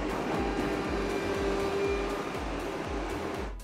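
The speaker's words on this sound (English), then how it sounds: "the Storti Doberman SW220 animal feed mixer strikes an ideal nutritional balance for robust herds and healthy" A Storti Doberman SW220 vertical twin-auger animal feed mixer runs with a steady, dense mechanical whir and a rhythmic low churning pulse from the turning augers, continuous and fairly loud throughout.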